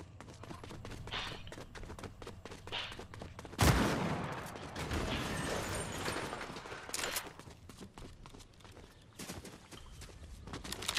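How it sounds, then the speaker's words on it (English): Gunfire in Fortnite, with one sharp, loud shot standing out among scattered distant bursts over a constant busy game soundscape of footsteps and movement. "Heard shooting, but I have no idea where they went."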